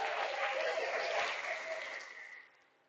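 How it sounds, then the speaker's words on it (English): A burst of crowd applause at a youth 9U baseball game, steady clapping that gradually fades out over a few seconds. "we'll give him his round of applause"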